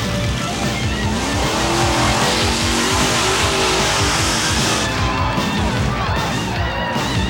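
Monster trucks crushing vintage cars, loud roaring engines revving hard with tire noise and heavy rumbling, close and continuous throughout.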